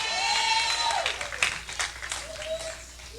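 A church congregation applauds during a sermon, a brief burst of clapping that fades over a few seconds, heard beneath a sustained tonal sound.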